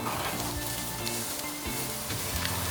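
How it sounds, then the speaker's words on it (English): Vegetables sizzle on a hot grill, a steady crackling hiss with occasional pops and a low background hum, close by. "I love listening to my vegetables sizzle"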